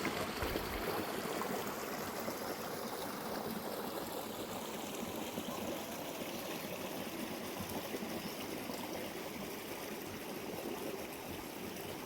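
River water flowing steadily through a rainforest, a continuous broadband rush and trickle heard close and alone for the whole stretch, with no voices.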